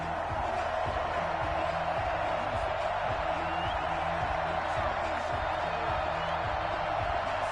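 Stadium crowd at an NFL game between the Los Angeles Rams and Buffalo Bills in Buffalo, a steady dense roar of many voices with scattered cheers, continuous and fairly loud throughout.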